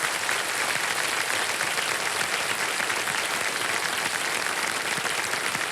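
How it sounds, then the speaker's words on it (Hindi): Steady audience applause fills a quiz game-show studio, a dense even wash of clapping held at a constant moderate level with no voices over it. "तालियां बज जाए"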